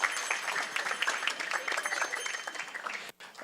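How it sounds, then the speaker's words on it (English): Worshippers at a Sunday feast applaud Harinam Prabhu and his team, a steady round of clapping from a gathered crowd that cuts off abruptly just past three seconds, then briefly resumes. "big round of applause for Harinam Prabhu and his team"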